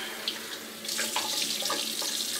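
Running tap water splashes steadily in a sink as a Yates 921-M titanium safety razor is rinsed, starting softly and then rising to a close, continuous gush with small knocks against the basin, no speech.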